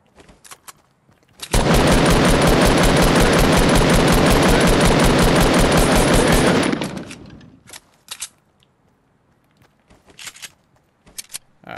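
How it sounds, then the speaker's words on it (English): Sustained loud automatic gunfire in the video game Fortnite, a dense continuous burst lasting about five seconds, followed by a few faint scattered shots and quiet game sounds. "Hear shots."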